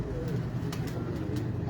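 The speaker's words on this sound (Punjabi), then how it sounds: "ਮਨ ਸਾਹਿਬ ਕਿਹੜਾ ਕਬੂਤਰ ਹੈ ਉਹਨਾਂ ਦਾ?" Pigeons coo on a rooftop in Gujranwala, with soft repeated throaty calls over a constant low background hum.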